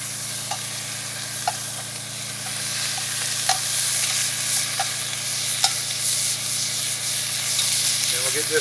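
Meat browning in a pot for Hawkeye stew, giving a steady close sizzle with occasional stirring scrapes and small pops throughout, with no talk.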